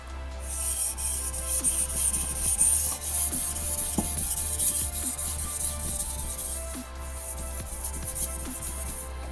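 A Japanese gyuto knife's steel edge rubs steadily across a whetstone, making a continuous close gritty scraping with a bright hiss that runs almost unbroken through the whole stretch.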